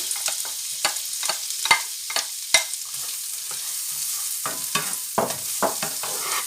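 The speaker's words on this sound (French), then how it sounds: "On fait suer l'échalote" Shallots sweat in melted butter in a pan, a steady soft sizzle under repeated sharp scraping and stirring knocks, near and clear, with no talk.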